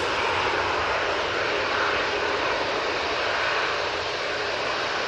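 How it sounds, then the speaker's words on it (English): EasyJet Airbus A321neo jet on its takeoff roll at Manchester Airport, a loud, sustained, broad engine roar filling the whole stretch with no voices over it. "EasyJet A321neo on the roll"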